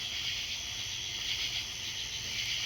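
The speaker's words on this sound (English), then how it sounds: "I know the Carolina ground crickets are close by" A continuous high-pitched trill of Carolina ground crickets drones steadily, fairly close, with a faint low rumble underneath and no pauses.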